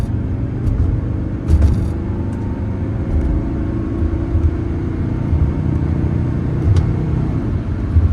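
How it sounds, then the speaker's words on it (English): A Mercedes 300SD turbo diesel car cruises at about 70 miles an hour, its turbocharger winding up over a steady low engine and road rumble, continuous and close from inside the cabin. "Hear that turbocharger winding up."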